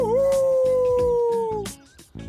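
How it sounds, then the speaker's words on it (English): A wolf puppy lets out a single sustained, wavering howl that ends with a short whimper, near and loud, with faint background sounds but no talk. "howling. That's what wolves do to keep the pack together."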